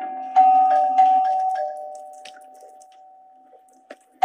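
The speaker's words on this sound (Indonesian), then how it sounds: "Lalu tiba-tiba saja terdengar suara bel yang terus-terusan berbunyi." A doorbell chimes a few times in quick succession, then one ringing tone lingers and slowly fades. It sounds fairly loud and close, with no talking over it.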